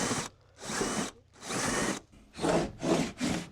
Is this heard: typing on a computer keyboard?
no